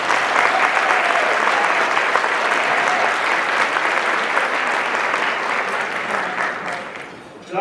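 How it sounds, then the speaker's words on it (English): A crowd at an education awards ceremony claps loudly and steadily for several seconds, then the applause thins and fades out near the end. "Please give them a round of applause."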